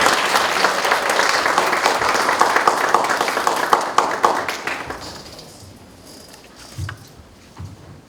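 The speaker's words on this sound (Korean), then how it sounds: "우리 환영의 박수." Church audience applause welcoming a children's ministry preacher at a seminar, dense clapping from a full room for about five seconds, then fading to a few scattered claps and quiet.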